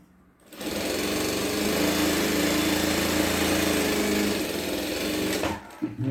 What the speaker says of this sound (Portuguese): Aqui eu vou colocar a linha, ó, bem bonitinho, linha com linha, e vou costurar.